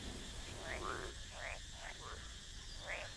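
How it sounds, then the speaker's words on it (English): Several frogs croak in short rising calls scattered over a steady, quiet night backdrop, with a faint insect chirp texture beneath. "The croaks of the frogs and the chirps of the insects seem to cheer you on."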